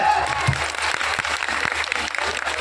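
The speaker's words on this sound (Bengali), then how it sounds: "তো ম্যাক ম্যাডামের জন্য একটা জোর করে হাতের তালি হবে" A crowd at a community club gathering claps loudly to welcome a guest, a brisk dense burst of applause with a few sharper individual claps.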